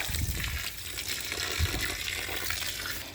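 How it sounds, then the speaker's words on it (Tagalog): Water is poured onto a garden plant while planting, giving a continuous close splashing and trickling with no talk over it. "Didiligan natin siya ng tubig."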